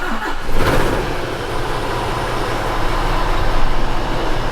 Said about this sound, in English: give you a sound of the engine